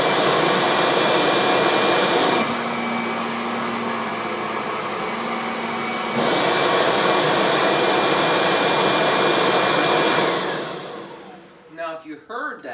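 A Kirby upright vacuum cleaner with its brush roll engaged roars steadily and loud, its motor tone dipping for a few seconds as it passes over an edge, then rising again before winding down at the end.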